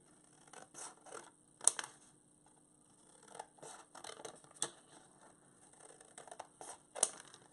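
Quiet, close scissor snips trimming material down, an irregular series of short crisp cuts with small pauses between them, no talking.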